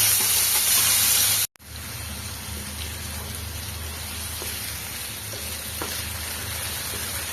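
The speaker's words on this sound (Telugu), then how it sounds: "క్యారెట్ ముక్కలు, ఆలుగడ్డ ముక్కలను అయితే బాగా ఫ్రై చేసుకోవాలి" Carrot and potato pieces frying in hot oil give a steady, dense sizzle throughout, broken by a brief dropout near the start, with faint crackles and no talking.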